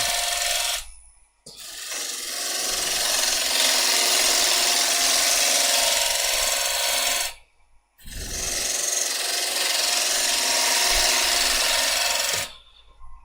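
Unknown wood spinning on a lathe as a tool cuts in to shape the foot: a loud, steady rasping hiss carried through two long passes, each broken by a short pause, with no talking.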